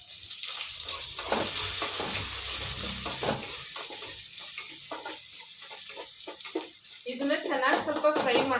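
Curry leaves and chopped onion tipped into hot oil for a soy pepper fry, giving a crackling sizzle with spoon stirring and a few clinks. A voice speaks over part of it, and a brighter sputter comes near the end.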